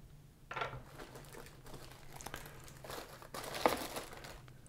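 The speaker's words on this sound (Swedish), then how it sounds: "Packar upp den först." Packaging crinkling and rustling as a Jeco SJ X2000 model train drive unit is unpacked, close crackly bursts of plastic and paper handling that swell and fade, with a faint steady hum underneath.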